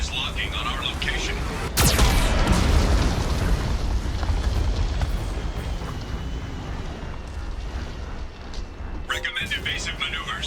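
A Geth cannon explodes in Mass Effect 2 with a sharp, heavy boom, followed by a long roaring rumble of debris. A synthetic warning voice speaks under the blast.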